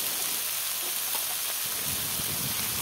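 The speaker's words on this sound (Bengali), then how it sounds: "মাছ দিয়ে তারপর টমেটোগুলোকে ঢেলে দিলাম" Small fish frying with tomatoes in a pan, a dense continuous sizzle and crackle close up, with a few faint stirring knocks.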